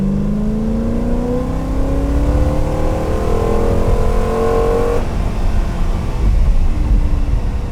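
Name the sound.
Aston Martin Lagonda Vantage engine revving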